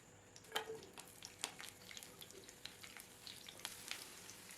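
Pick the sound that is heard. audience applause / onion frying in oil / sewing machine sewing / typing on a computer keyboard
onion frying in oil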